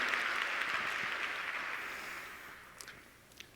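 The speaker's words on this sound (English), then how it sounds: "Robert is worth a big round of applause" Audience applause at a legal-tech cloud conference keynote, a dense crowd wash of clapping that gradually fades, with a couple of isolated claps or whoops as it dies down.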